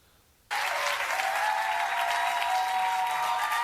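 Studio audience applause bursting in suddenly for a standing ovation on TV, a dense, even roar of many hands clapping that stays loud and steady to the end.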